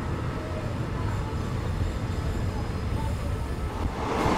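A train rumbles steadily at Padang Besar station in Thailand, a continuous low mechanical roar and rattle of the carriages with no voices.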